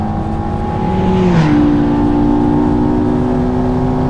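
A McLaren sports car launches hard from a standstill with some wheelspin, a loud engine note climbing steeply in pitch through a quick gear change and then holding a strong high drone, close and without talk.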